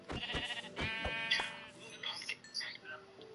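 Sheep in Minecraft give several short, close, wavering bleats, one after another, with a few quieter sounds in between.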